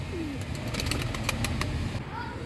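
A tumbler pigeon flies in and lands, its wings giving a rapid burst of flapping claps close by, with faint background sound around it.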